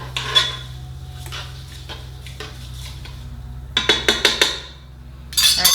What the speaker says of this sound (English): I'm just going to give it a little stir here